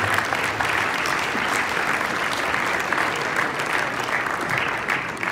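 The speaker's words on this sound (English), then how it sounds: "they all deserve a huge round of applause" Audience applause at the UIM gala awards in Monaco, honouring the AquaBike World Champions: steady, dense clapping from a large crowd that holds evenly throughout without pause.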